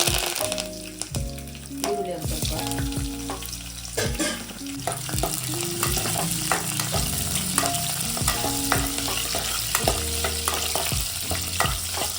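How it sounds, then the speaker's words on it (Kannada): Hot oil sizzles steadily while mustard seeds pop and crackle in sharp, scattered bursts during tempering for basale leaf sambar, with light clatter and a soft tune playing in the background. "ಒಗ್ಗರಣೆಗೆ ಎಣ್ಣೆ ಸಾಸಿವೆ ಹಾಕಿದ್ದೀನಿ"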